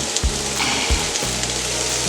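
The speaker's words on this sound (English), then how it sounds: "And we're going to put our onions on." Onions and potatoes frying in a pan over medium heat, a steady soft sizzle with a couple of light clunks near the start, no talking.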